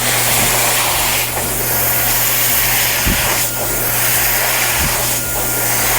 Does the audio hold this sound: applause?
no